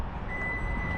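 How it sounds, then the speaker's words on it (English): Steady high-pitched warning tone from a Toyota Sequoia, sounding continuously without a break against a low engine idle rumble, as the tailgate door has not come all the way down. "That's what's causing that beep."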